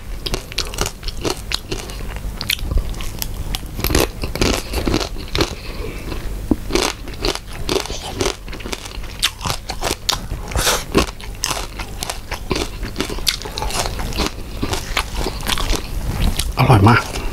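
Spicy fresh shrimp salad with crispy noodles eaten close up, with loud, dense, continuous crunching and chewing throughout and no talk.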